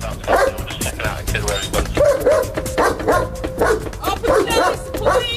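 Police dogs bark and yip repeatedly at close range while police talk over them at a locked apartment, a busy, agitated mix of voices and barking.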